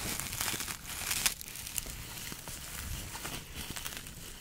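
Close, continuous crinkling of thin foil packaging, rustling and crackling as it is handled, with a few sharper crunches, no talking.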